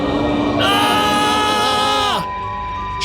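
Two people screaming together in a Hindi horror podcast: a loud, sustained, wavering shriek lasting about a second and a half, rising sharply and then cutting off, over a steady background bed.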